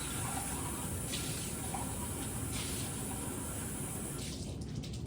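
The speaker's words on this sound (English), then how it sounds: "I'm just going to rinse this out real fast." Steady running water pours and hisses close by in a chemistry lab, with faint splashing shifts as a container is rinsed beneath the stream.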